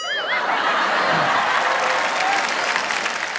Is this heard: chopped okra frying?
no